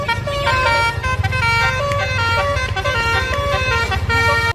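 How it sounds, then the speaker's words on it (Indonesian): A toy telolet tour bus plays its musical horn, a loud, continuous chain of bright melodic tones over a low droning hum, filling the whole stretch without a break. "Wes, bis tolelot."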